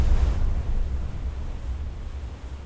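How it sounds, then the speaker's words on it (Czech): Steady broadband surf and wind at a beach by the sea, a continuous wash of waves with low rumble, fairly loud and close, with no voices present. "My jsme dorazili na pláž,"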